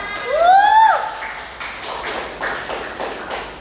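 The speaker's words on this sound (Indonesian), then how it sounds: "Tepuk tangan" A small classroom audience at a micro-teaching session gives light applause after a poem reading, a handful of separate claps at an uneven rhythm. A short voice sounds at the start.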